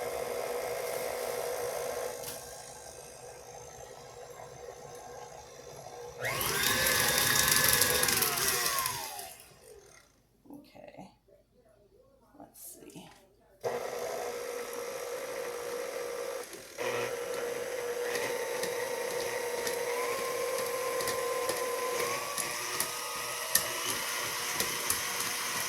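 Twelve ounces of cauliflower being rough-chopped, heard as a loud mechanical whirring burst that rises and falls, followed by quieter intermittent machine humming and a steady whine near the end.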